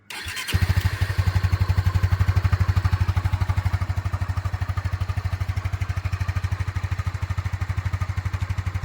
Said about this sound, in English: This is the idle sound of the exhaust.